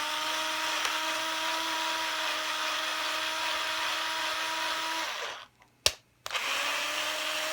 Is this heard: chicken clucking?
no